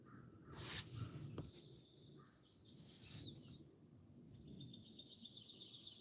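Crows calling outdoors, a few scattered caws sounding faint and somewhat distant over a low, steady background hum.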